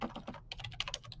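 Quick, soft keystrokes on a computer keyboard tap out a short burst of typing in an irregular rhythm, close and quiet, with no voice over it.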